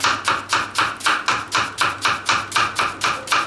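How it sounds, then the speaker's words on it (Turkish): Leeks being finely chopped with a kitchen knife on a board, a brisk even rhythm of about three crisp cuts per second, close and loud, with no talking over it. "Doğrayabildiğim kadar ince doğruyorum."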